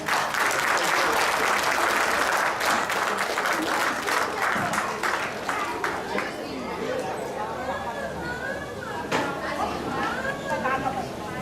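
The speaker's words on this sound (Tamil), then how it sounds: "கொஞ்சம் கைத்தட்டி உற்சாகப்படுத்தலாமே." An audience at a Tamil New Year event claps steadily to cheer on children about to recite slokas, a sustained round of applause that gradually thins, with murmured chatter underneath.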